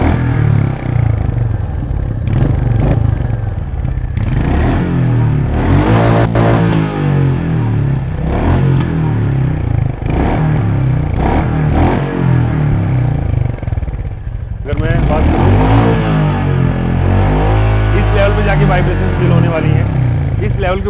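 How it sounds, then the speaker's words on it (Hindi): Royal Enfield Meteor 350 motorcycle exhaust note while riding, a loud low thumping drone that swells and drops through gear changes and revs, heard close up with wind rumble and no talking. "बट अब चलाने में देखते हैं कैसी है इसकी एग्जॉस्ट नोट"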